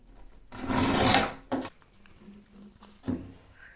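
A strip being cut from a felt-backed abrasive disc, one long rasping scrape followed by two short cutting strokes, close and fairly quiet.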